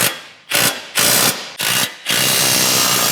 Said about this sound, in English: grab yourself a 22mm socket and a 22 wrench for the back side, and we'll get this locked down